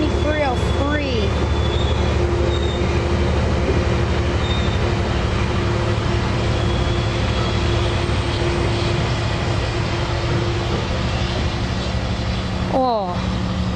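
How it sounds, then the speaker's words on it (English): Loud continuous rumble of a passing commuter passenger train led by an F59PHI locomotive, steady and close for the whole stretch, with a horn-like tone sweeping near the start and end. "now here comes another train right now"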